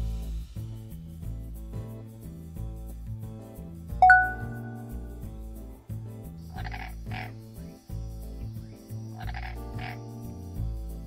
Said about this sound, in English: Aw, I can see a frog.